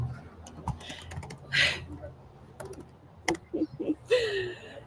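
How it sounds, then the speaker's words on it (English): Typing on a computer keyboard, with bursts of quick clicking keystrokes near and moderately loud, while a voice murmurs briefly in between. "Do you guys see me just typing in Lori's name?"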